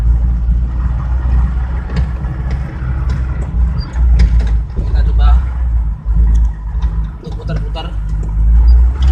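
An old car converted to run on gas fuel idles with a steady low, rumbling engine hum that stays loud throughout, while someone talks over it.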